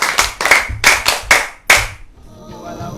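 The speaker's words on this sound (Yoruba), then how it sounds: "ẹ yá ẹ pàtẹ́wọ́ o" A group of children claps hands together in several loud, sharp bursts of rhythmic clapping that stop abruptly, leaving faint background noise at a children's programme.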